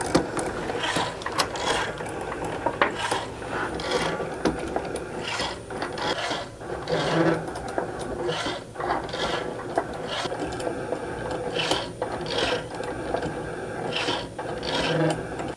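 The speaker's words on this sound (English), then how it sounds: "we'll just click the go button to start the engraving." A Cricut Maker engraves a metal ring dish with a steady, close mechanical grinding and ratcheting whir. The sound carries on alone, with repeated rasping pulses and shifting tones from the moving carriage.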